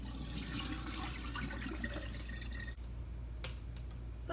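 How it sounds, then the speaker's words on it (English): Water running steadily from a kitchen tap as fresh basil stems are rinsed, a continuous close splashing wash that briefly dips near the end before resuming. "I'm going to rinse the basil on the stems"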